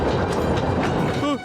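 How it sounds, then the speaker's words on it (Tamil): A cartoon train rumbles along the rails with a steady clattering roar, loud and close, ending with a brief rising whistle-like squeal before cutting off. "ட்ரெயின் வந்துகிட்டு இருக்கு."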